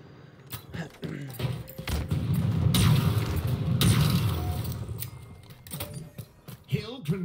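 A grenade goes off in a King of the Hill match of a first-person shooter, a deep booming blast that rumbles for a couple of seconds between sharp clicks and thuds.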